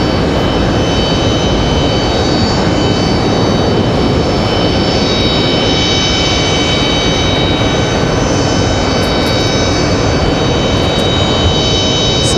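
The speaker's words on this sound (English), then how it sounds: "Mesa Airlines is United Connect or Express touching down again, coming in from Houston" A Mesa Airlines Embraer E175 regional jet arriving from Houston touches down at Raleigh-Durham, a loud, constant roar of engine and rushing air with a high steady whine, unbroken for the whole stretch.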